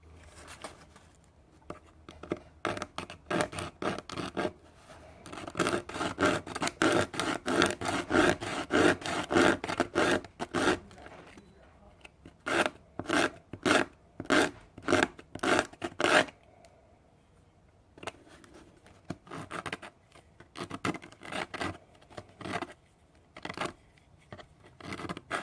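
Sandpaper from a dollar store rubbed briskly back and forth in long runs of quick, regular strokes, close and fairly loud, pausing briefly between bursts with no talking.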